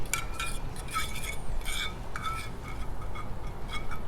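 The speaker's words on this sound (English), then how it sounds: "Let's give this a little stir." Metal utensil scraping and clinking against a pan while stirring pizza grilled cheese ingredients, a series of close, bright taps and scrapes over a low background hum.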